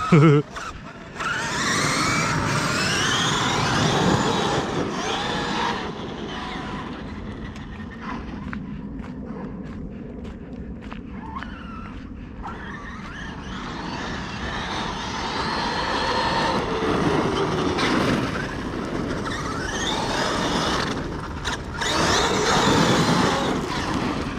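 A vehicle engine left idling at a recycling site rumbles continuously, louder at the start and end and quieter in the middle, with a voice heard briefly.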